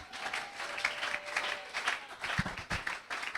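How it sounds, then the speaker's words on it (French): A church congregation at a French-language thanksgiving service claps and applauds in acclaim, steady moderate clapping from a crowd lasting a few seconds with no speech over it. "Est-ce qu'on peut encore acclamer Dieu?"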